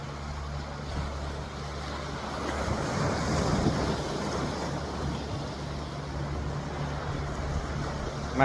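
Sea waves washing in at a clean, clear-water beach, a steady broad rush that swells in the middle, mixed with gusty wind buffeting the microphone and no talking.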